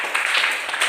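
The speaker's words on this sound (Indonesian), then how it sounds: "Kita beri aplaus kepada kelompok 2" Brief burst of clapping from a classroom group applauding classmates after a group discussion report, a short dense patter of hands lasting under a second.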